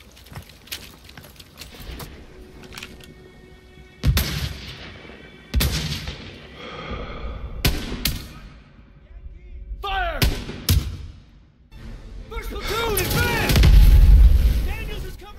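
Heavy artillery fire in Call of Duty: WW2 booms in scattered blasts, some sharp and sudden, others rumbling louder toward the end, with whistling sweeps between.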